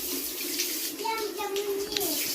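Running water rinses a knife blade used for butchering pigs, a close splashing trickle with a few brief squeaky tones, while people talk nearby.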